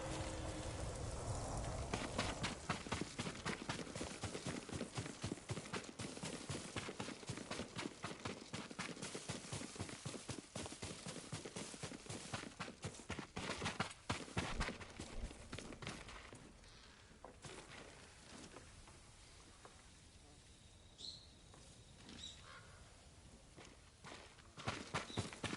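Rapid rhythmic hoofbeats of a horse in the video game Ghost of Tsushima clatter loudly at first, then ease into slower, sparser clip-clops as the horse settles, with faint background ambience.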